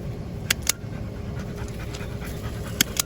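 Dogs pant in quick, steady rhythm close by, with a few sharp clicks and taps scattered through.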